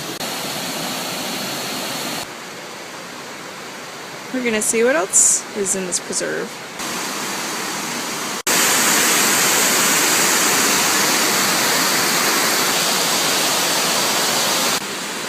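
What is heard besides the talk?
waterfall in a gorge at Plotterskill Preserve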